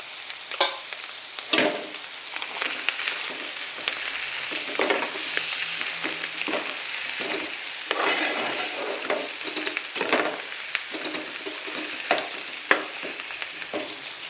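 Potato curry frying in a pan as turmeric goes in, a continuous close sizzle broken by repeated scrapes and stirring taps of a spoon.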